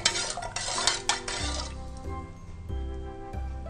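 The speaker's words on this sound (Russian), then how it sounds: "размешиваем" Onion-skin broth with a spoonful of salt is stirred in a pot for dyeing eggs, a spoon scraping and clinking against the sides in several close strokes before settling into a softer swirl.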